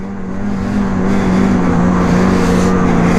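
A Ski-Doo Assault 850 snowmobile engine is held at full throttle, a loud, steady, close high-revving drone that builds slightly and then holds level with no one speaking.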